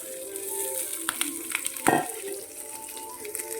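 Onions sautéing in a pan for chicken perattu produce a moderate, continuous sizzle with scattered spoon scrapes and small clinks against the pan.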